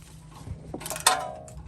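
A socket wrench works engine bolts loose on a Toyota 3.4L V6 head, giving a few short mechanical clicks and creaks followed by one sharp crack as a bolt breaks free, close up with no talking.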